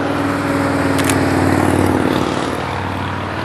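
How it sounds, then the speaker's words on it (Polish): Motorcycles pass by on a road, producing a loud, steady engine drone with a rising and falling pitch as they go past at close range. "O, motory są..."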